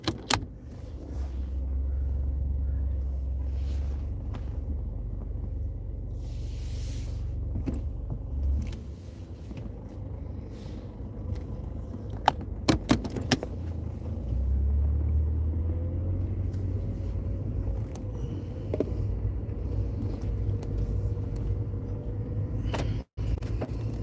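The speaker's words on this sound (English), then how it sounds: "It's crazy over here. Freaking traffic." Street traffic rumbles steadily, with low engine drone from passing cars, occasional clicks and jangling nearby and one sharp knock near the end, all fairly distant and without talk.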